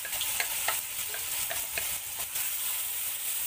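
Garlic, ginger, galangal and lemongrass stir-fried in hot oil for Singapore-style sambal goreng, a steady close sizzle with the scrape and clatter of stirring repeating throughout, no talking.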